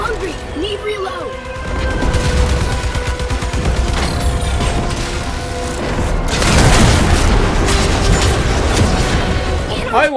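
Cannon turret fire in the video game Warframe: heavy booming shots with gunfire-like bursts and mechanical clatter, loud and close, mixed with game music and voice chatter throughout.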